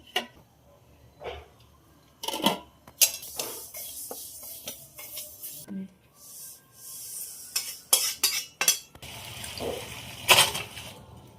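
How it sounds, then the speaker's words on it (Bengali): Dal and rice are washed together in a cooking pot for khichdi, with close clinks and scrapes of metal, swishing water and intermittent clatter in uneven bursts, no talking. "ডাল আর চালটা একসাথে ধুয়ে নিলাম"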